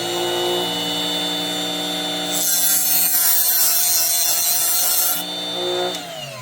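Oscillating multi-tool blade plunging into a JobSaver Pro sharpener: a steady high-pitched electric tool whine, then a harsh, louder grinding buzz for a few seconds as the blade bites in, easing off before the motor winds down.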